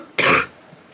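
One short, sharp cough, close and loud, cutting off quickly into quiet.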